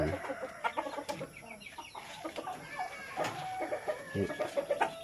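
Crossbred chickens and chicks cluck and peep nearby in a farm yard, with frequent overlapping calls and a faint rooster-like crow among them.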